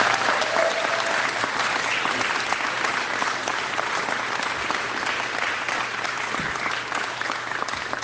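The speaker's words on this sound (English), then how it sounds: "Let's give them a big round of applause." Sustained applause from a crowd at a Pierre Poilievre political event, dense steady clapping that carries on evenly for several seconds without letting up.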